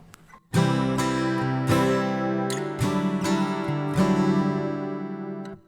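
Acoustic guitar tone from an Axe-Fx II processor with chorus effect on, heard as a series of bright strummed chords in steady rhythm, each sustaining with a shimmering, full ring until the final strum fades.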